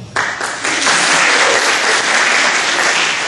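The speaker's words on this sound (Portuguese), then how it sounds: "queria dar uma salva de palmas ao Flash" An audience at an information-security lecture breaks into loud, dense applause that swells within the first moments and holds steady throughout, with no speech over it.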